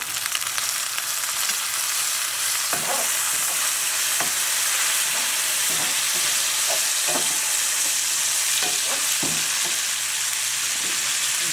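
Tofu fried rice with soy sauce sizzles steadily in a hot pan, loud and continuous, while a spatula scrapes and taps against the pan at irregular moments; no voices.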